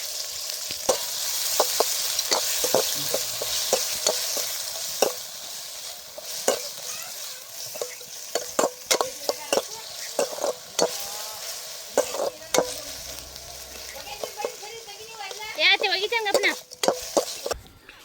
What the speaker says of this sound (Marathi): आणि थोडासा लाल मिरची आणि थोडंसं हिरवी मिरची ते घालायचं आणि मस्तपैकी पूर्णपणे ह्याला पहिला परतून घ्यायचं